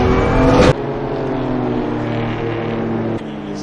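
Onboard BMW M2 CS race car on a circuit during a Racing Cup session, its engine droning steadily close up with a harsh rev surge at the start and a drop in tone near the end.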